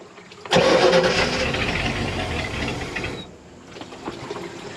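The inboard engine on a 1986 Shamrock 20 Conwalk boat roars up loud and steady as the throttle opens, runs strong for several seconds, then drops back to a lower idle.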